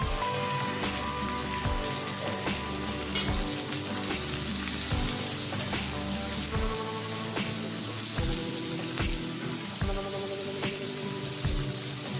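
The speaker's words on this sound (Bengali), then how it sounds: "কাঁচা লঙ্কা, টমেটো, পেঁয়াজ সব একসাথে ভেজে নেব" Green chilies, tomato and onion frying together in a pan, a steady close sizzle and crackle with dense popping throughout, no talk.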